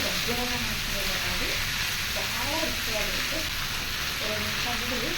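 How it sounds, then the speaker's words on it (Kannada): Washed greens (chilkire soppu) sizzling in an iron pan, a steady dense frying hiss that runs throughout at close range while a voice talks over it. "ಇದು ಫ್ರೈ ಆದಮೇಲೆ ತೊಳೆದಿರೋ ಸೊಪ್ಪನ್ನು ಹಾಕೋತಾ ಇದ್ದೀನಿ"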